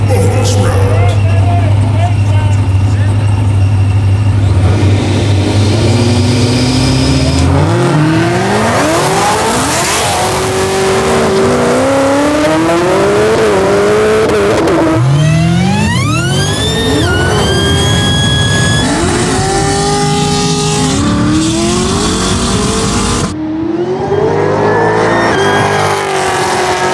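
An 820hp Cadillac CTS-V and a 1040hp Camaro SS drag race, engines roaring loud and close as they launch and climb through rising gear shifts with repeated upshift sweeps, people talking over the noise.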